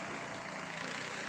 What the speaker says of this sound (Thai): มีเรือหางยาวนะครับกำลังวิ่งอยู่ด้านหลัง